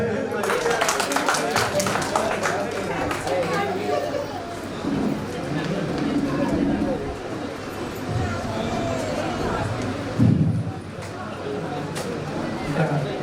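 Applause at a Santhinikethan High School get-together, with many hands clapping in a dense burst over the first few seconds, then settling into crowd chatter and voices for the rest.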